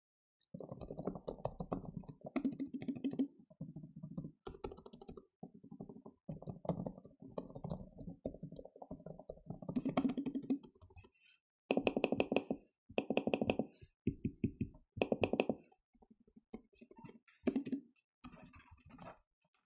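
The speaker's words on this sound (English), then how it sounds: "I'm gonna give you guys a sound test on how loud the key presses are" Key presses on a Microsoft Surface Pro 4 Type Cover with fingerprint ID, a long run of close, fairly muted tapping, steady bursts of typing broken by short pauses and some sharper separate clicks toward the end.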